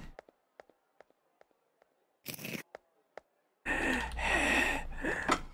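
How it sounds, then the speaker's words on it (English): Creepy breathing in the video game Chef RPG starts as heavy, raspy, close breaths that swell and sustain. Before it come scattered light clicks and a short burst of noise. "The creepy breathing got him"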